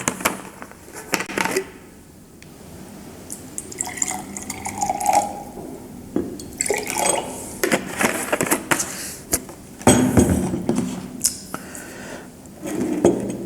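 Water is poured into a container during an indoor product demonstration, heard as intermittent splashing and trickling in short bursts with pauses, fairly quiet and close.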